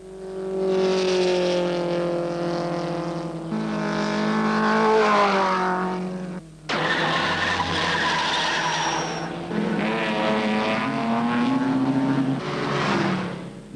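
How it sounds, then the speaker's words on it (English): Racing cars lap the track during practice at the 1965 Sandown Six Hour Race, with loud, close engines whining and rising in pitch as they pass one after another and a sharp burst of tire noise midway. No voices are heard. "All is ready, and the cars are on the track for the start of practice."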